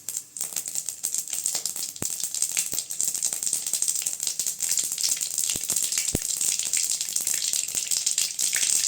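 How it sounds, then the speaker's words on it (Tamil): Mustard seeds hit hot oil in a pan for an avarakkai (broad bean) poriyal, giving a steady close sizzle with scattered sharp pops and crackles throughout, no talking. "சட்டி சூடானது எண்ணெய் ஊற்றி வச்சுக்கிட்டேங்க இப்போ கடுகு சேர்த்துக்கலாம்"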